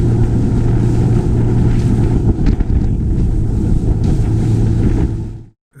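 Steady roar of wind buffeting the microphone on a boat rounding the Isle of Arran in the Kilbrannan Sound, loud and continuous with a low engine-like drone beneath, then cutting off abruptly at the end.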